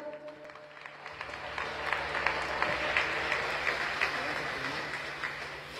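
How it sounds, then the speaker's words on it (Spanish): Applause for the Virgin Mary at a patronal festival in El Barreal, Chiquimula swells from a crowd, steady clapping rising after a quiet start and holding, with some voices mixed in. "Esos aplausos fuertes para la Virgen María."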